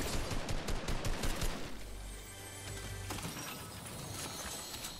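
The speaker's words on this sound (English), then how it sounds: "There's gunshots over here." Gunfire in Fortnite Reload crackles as a fast, dense burst of shots, then gives way to quieter scattered reports and game noise, with no talk over it.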